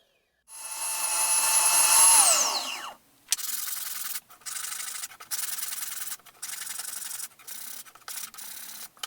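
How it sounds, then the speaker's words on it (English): Oscillating spindle sander smoothing holes cut in wood: a loud whine that winds down, then a run of short, steady bursts of rubbing as the part is pressed against the drum. "I clean up the holes sanding by hand or using the oscillating spindle sander."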